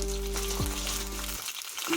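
Eggplant pieces sizzle in a kadai for begun ilish, a loud, steady frying hiss that drops away briefly near the end before resuming.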